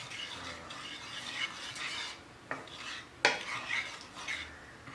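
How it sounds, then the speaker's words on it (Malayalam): A spoon stirs ginger curry mixed with jaggery and salt, scraping and clinking against the pan in irregular strokes with a few sharper knocks, close and fairly quiet, with no voices. "അതിനുശേഷം സ്പൂൺ കൊണ്ട് നന്നായിട്ട് മിക്സ് ചെയ്ത് യോജിപ്പിക്കണം"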